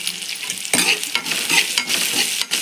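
Onions and drumstick leaves sauté in a hot pan, a steady loud sizzle broken by repeated scrapes and stirs of a spatula, with no talking.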